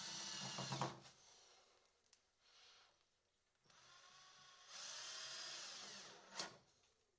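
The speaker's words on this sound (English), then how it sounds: "Using your cordless drill." A cordless drill whirs in two bursts, driving screws into a wood frame, spinning up, running steadily, then stopping, with a quiet pause between runs.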